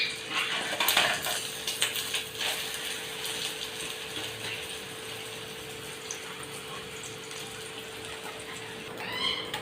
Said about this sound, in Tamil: திருப்பி போட்டுக்கிடுவோம்